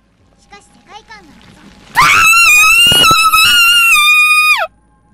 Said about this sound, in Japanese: 人の叫び声